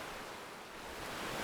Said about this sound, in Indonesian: menikmati angin dan suara ombak